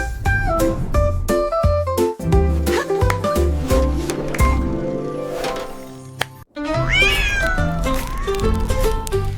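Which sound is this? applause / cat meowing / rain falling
cat meowing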